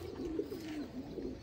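A pigeon coos softly in low, rolling murmurs, steady and fairly quiet, with no other sounds around it.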